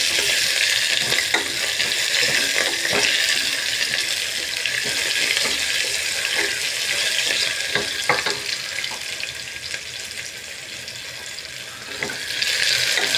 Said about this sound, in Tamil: நறுக்கி வச்சு சின்ன வெங்காயத்தை சேர்த்து நல்லா வணங்குற அளவுக்கு கிளறி விட்டுப்போம்.